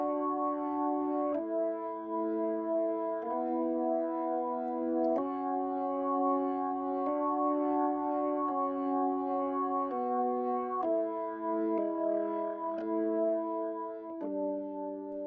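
A Hammond B3 organ plays sustained chords in the first chorus of an album track, shifting smoothly through several chord changes over a soft mix, steady and moderately quiet with no talking.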